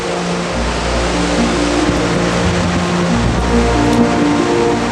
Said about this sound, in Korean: 우렁찬 소리와 함께 금빛 폭포라 불리는 굴포스가 모습을 드러냅니다.